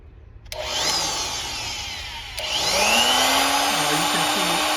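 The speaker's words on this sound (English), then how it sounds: "when you first start the cut-off saw, it'll go down to about 11 volt or so." A battery-powered cut-off saw whines up and runs loudly and steadily, its pitch rising as it spins up a second time, with a motor drone throughout.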